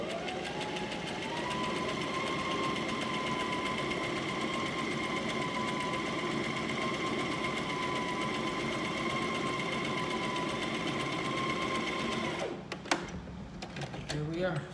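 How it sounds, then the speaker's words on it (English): A sewing machine stitches the side seams of a tank tee in one long, steady whirring run of about twelve seconds, close and loud, then stops, followed by a few handling clicks and rustles. "So we got both sides of our shirts side seam sewn."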